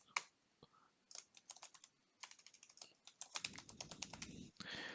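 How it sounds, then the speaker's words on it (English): A password is typed on a computer keyboard in quiet, irregular bursts of close, crisp key clicks, with a few pauses between runs of keystrokes. "Type in the password"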